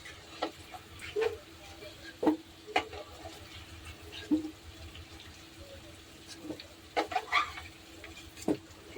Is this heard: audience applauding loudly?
no